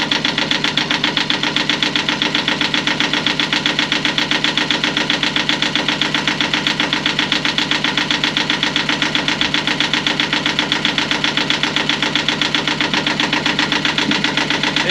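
An inboard engine in an Alberg 30 sailboat sitting in a slip in New Zealand runs at a steady idle, a close, even mechanical chugging with rapid regular knocks throughout.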